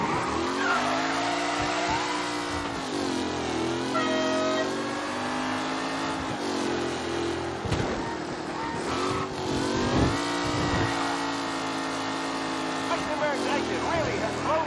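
Race cars in Mafia Definitive Edition roar close by with rising and falling engine revs and tire squeals through skids, while a commentator talks over the racing.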